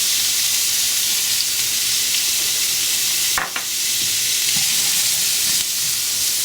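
Onions and squash fry with pork in a hot pan for jjajangmyeon, giving a loud, steady, close sizzle with a brief stirring scrape partway through.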